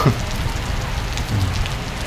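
Heavy rain pours steadily in Prasat town, Surin, Thailand, a dense, loud, continuous hiss of drops hitting surfaces with a low rumble underneath and no voices.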